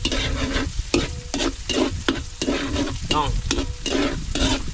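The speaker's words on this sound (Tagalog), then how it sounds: "Tayo po ay magigisa na. Bawang, luya, tsaka po sibuyas." Garlic, ginger and onion sauté in a pan, with rhythmic scraping stir strokes repeating about every half second over a steady, close sizzle; a voice speaks briefly.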